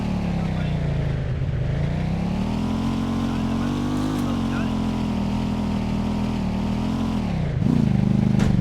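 A motorbike engine in a multiplayer video game drones steadily and loud throughout, briefly dipping in pitch before revving back up near the end, with players talking over it.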